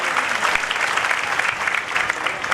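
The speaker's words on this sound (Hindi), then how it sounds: "ये केशोर की ताली नहीं, केशोर की तालियों की गड़गड़ाहट से हम लोग धन्यवाद अर्पित करवा।" Thunderous crowd applause at the Keshod airport flight launch, a loud, dense roar of many hands clapping continuously and close, with no speech over it.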